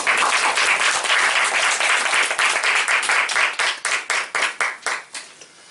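Audience at a Christian academic forum applauding a speaker, dense clapping from a crowd that thins into a few distinct claps toward the end.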